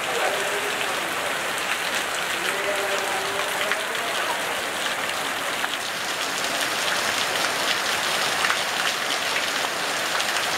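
Heavy rain pours down steadily on surfaces as a sudden downpour hits with strong wind, a dense, loud hiss that holds for the whole stretch with no voices.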